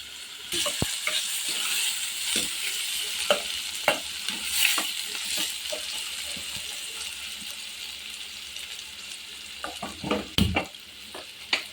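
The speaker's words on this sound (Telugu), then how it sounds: "కొంచెం పోపు దినుసులు ఉల్లిపాయలు పచ్చిమిర్చి కొంచెం దోరగా ఫ్రై చేసుకోవాలి" Tempering spices, onions and green chillies fry in oil in a pan for a tomato egg curry, a steady close sizzle broken by repeated scraping stirs and spoon clinks throughout.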